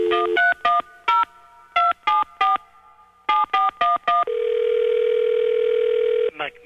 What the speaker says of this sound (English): I came up with a phone number for Ed McMahon, and we get a hold of his butler